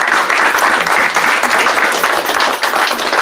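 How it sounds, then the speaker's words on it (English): A school board meeting audience gives a student a big round of applause, dense sustained clapping from many hands filling the room without letup. "Let's give Connor a big round of applause."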